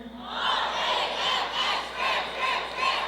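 A graduation crowd at a high school commencement shouts the Ram cheer in loud, rhythmic unison bursts, several chanted syllables in a row echoing through a large hall.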